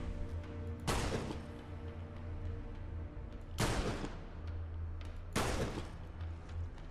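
Three heavy gunshots from a weapon in Fallout London, each a sharp loud boom with a rumbling decay, spaced a couple of seconds apart over a low steady game hum.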